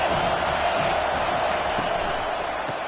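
A football stadium crowd roars steadily and loudly, a continuous wash of cheering at constant volume with no breaks.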